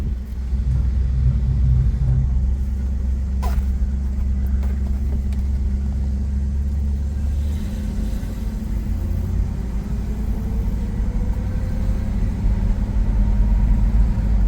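A 1969 Chevelle barn-find survivor car with original drum brakes runs on a test drive, its engine a low, steady, fairly quiet rumble heard from inside the car with no talk.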